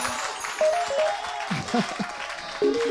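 A church congregation in a French-language worship service cheers and applauds, with a steady wash of clapping and a few brief voices calling out over it.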